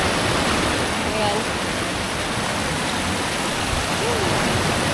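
A river flowing beside the bank on the way to Anaan Falls in Pampanga, a steady, dense broadband rush that fills the whole clip, close and constant, with a single short word spoken over it.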